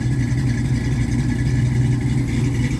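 A Mustang under rebuild with its engine running, a steady close-up low rumble holding an even idle for a few seconds with no talk.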